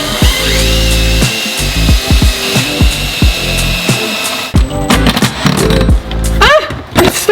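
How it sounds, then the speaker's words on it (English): A power drill whirs in repeated short bursts up close, stopping and starting as it bores pilot holes, with a brief pause midway. "I need to drill some pilot holes before we actually try and attach those on"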